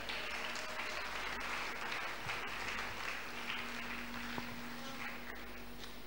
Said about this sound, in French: Allez, encouragez-la par les acclamations.